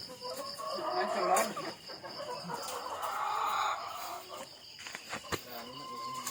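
Hens clucking at a rural home in Negros Occidental, a busy flock calling in bursts close by, with people talking over them throughout.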